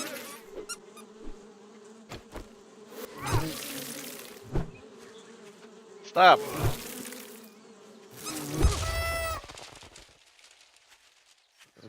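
Bees buzzing close by in short passes: a steady low hum, with several louder bursts as insects fly near and a sharper buzz near the end. Someone speaks a word briefly.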